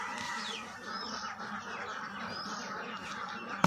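Ducks on a village duck farm quack and call in a loose, overlapping flock, moderately close over a busy outdoor background, with no clear talk.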